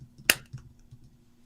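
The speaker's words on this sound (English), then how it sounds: "Okay, and clap again in 3," One sharp, close hand clap made to sync recordings, a brief crisp snap early on, with quiet room ambience and tiny incidental noises around it.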